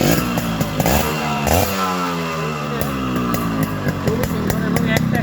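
A Yamaha RX100 two-stroke motorcycle engine running close by, a loud buzzing, rattly idle with a couple of quick throttle blips early on and a steady drone throughout.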